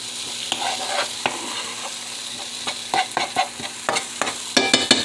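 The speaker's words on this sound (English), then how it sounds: "I'm just going to make scrambled eggs with all this in it." Eggs scrambled with mixed vegetables in a hot frying pan, with a steady close sizzle broken by repeated scraping and stirring strokes of a utensil against the pan, no talking.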